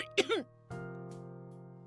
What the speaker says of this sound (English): Becca starts coughing heavily.